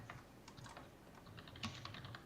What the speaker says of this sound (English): I can hear your typing.